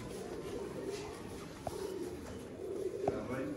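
A black-faced pigeon coos softly among a set of game pigeons kept for sale, a few low throaty notes rising above a steady noisy background, fairly faint and distant.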